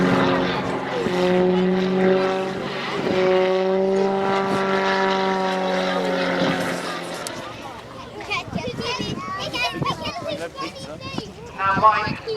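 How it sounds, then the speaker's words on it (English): A propeller aeroplane drones overhead at an airshow with a steady, tonal engine hum that fades partway through, while a commentator and other voices talk over it. "Now Mike has to join up with an aeroplane."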